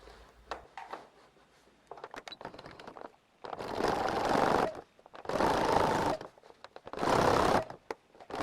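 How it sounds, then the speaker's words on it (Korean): A sewing machine runs in three bursts of whirring stitching on dress fabric, each a few seconds long, separated by quieter handling and rustling. "재봉틀로 고정해주면 된답니다."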